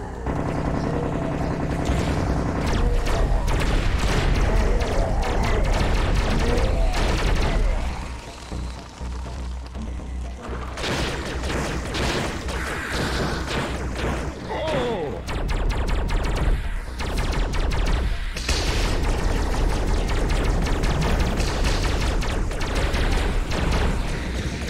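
Tommy gun fire in the Serious Sam VR shooter, dense rapid bursts of automatic gunshots running almost the whole time, loud and close amid game effects, with a short lull before the shooting resumes.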